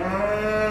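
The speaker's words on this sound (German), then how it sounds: "Also endlich wir könnten die Kühe rauslassen." A single cow mooing on a Solothurn farm, one sustained, tonal low call filling the short moment, close and clear with no talk.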